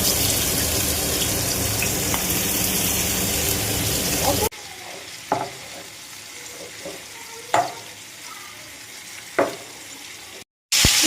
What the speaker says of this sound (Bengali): এবার তার মধ্যে আমি এই যে চিকেনের পিসগুলো দিয়ে একটু ভেজে নিই হালকা করে